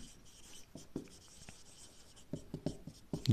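Chalk or marker scratching on a board in a physics lecture on nuclear models, a few short strokes and taps, faint against a quiet room with no talk.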